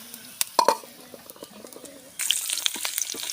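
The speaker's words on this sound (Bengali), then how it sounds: "সাথে চিপস ভাজি করা হচ্ছে" Potato chips fry in hot oil at home, a bubbling sizzle with sharp plops and crackles that swells to a louder, denser hiss partway through.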